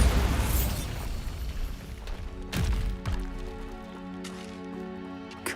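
A Bombarda spell explodes in a video game with a loud blast that rumbles and fades, followed by a second sharp boom midway and a lingering low tail.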